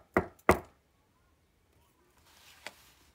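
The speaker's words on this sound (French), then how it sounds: "il entendit frapper à nouveau" Two loud, close knocks on a door in quick succession, followed by a quiet pause and one fainter tap.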